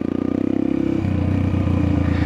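A Yamaha XTZ 125 motorcycle idles and rolls slowly over rocks, its low steady engine throb close and continuous, with a shift in tone about halfway through as it moves off.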